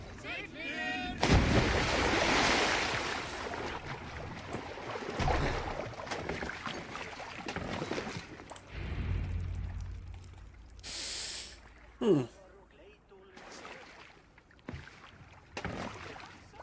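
Oars splash and water sloshes as a boat is rowed in Assassin's Creed Valhalla, with bursts of louder splashing, breathy grunts and scattered in-game voices over the steady churn.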